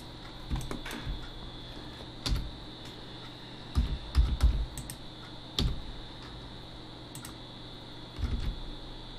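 Computer keyboard keys pressed as Blender shortcuts while modelling, with scattered sharp clicks and short bursts of several quick taps in a quiet room, close and moderately loud, no talk.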